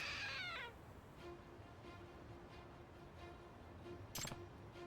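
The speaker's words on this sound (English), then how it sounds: "It meowed. So it's a trick statue." A trick cat statue in the Lost Judgment video game gives a clear, high meow at the very start, followed by quiet game ambience with a low steady hum and a brief bright clatter near the end.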